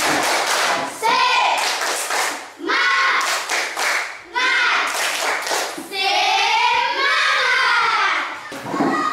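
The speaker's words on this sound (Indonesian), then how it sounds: "Tepuk semangat." Schoolchildren in a classroom do a rhythmic spirit clap, with loud, patterned bursts of clapping and thumps mixed with excited young voices chanting and shouting throughout.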